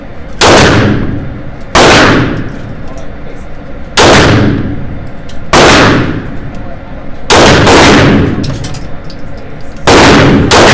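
Loud outdoor pistol shots from a CZ Shadow 2 fitted with an Apex trigger kit, fired at targets 10 yards away, six or seven spaced blasts about two seconds apart, each with a long echoing decay.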